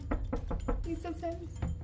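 Several dull knocks on a door come in a quick run, then a voice speaks, and one more knock follows over a low, steady rumble.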